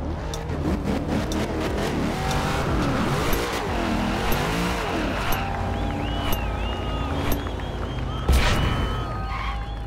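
Race cars rev and drone steadily at the start of a drift race in a video game, with engine pitch rising and falling through a continuous loud roar and a few brief knocks.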